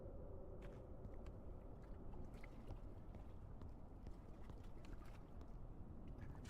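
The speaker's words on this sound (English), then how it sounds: "I hear footsteps." Footsteps in the Forever Skies video game, a steady run of soft, faint thuds and taps beneath a dense low rumble of ambient noise, with no speech.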